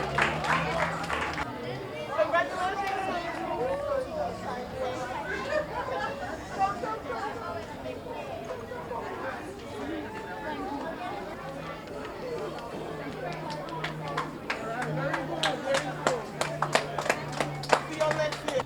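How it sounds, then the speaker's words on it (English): At the closing ceremony of a national schools science fair, a hall crowd chatters and murmurs, and scattered claps build into a burst of applause near the end. "A round of applause for them."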